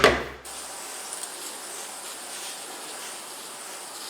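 Water sprayed from a hand sprayer over soaking-wet bedding in a worm bin tote, a steady close hiss lasting several seconds after a brief louder burst at the start, with no talking.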